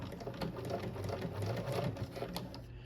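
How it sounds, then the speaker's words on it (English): Dual-feed sewing machine stitching vinyl, running as a steady, close mechanical whir with a fast rhythmic needle patter for the full three seconds, with no talking. "So let's go ahead and start stitching."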